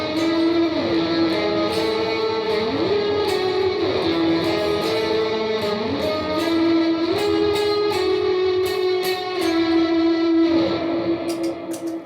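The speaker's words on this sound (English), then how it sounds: "we go from playing those high notes into this big riff" Loud, sustained lead electric guitar riff for a worship song, played with nearly every pedal engaged, producing a thick, effected tone with sliding bends and continuous ringing notes, no voices.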